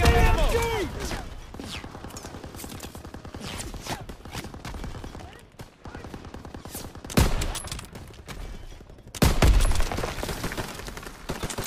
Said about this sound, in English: MG in the hayloft!